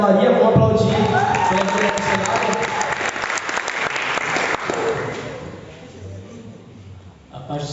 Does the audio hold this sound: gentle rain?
no